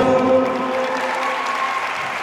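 Audience applause in an arena at a sports award ceremony, a steady wash of clapping from a crowd lasting a couple of seconds, moderately loud and even, with no talk over it.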